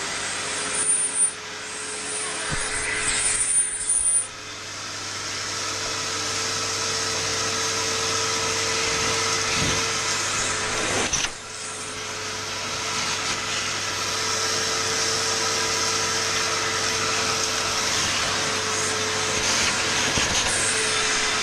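A new Einhell 30-litre wet and dry shop vacuum runs for its first start-up, giving a loud, steady, close-up roar of rushing air with a constant motor whine that holds throughout without pause.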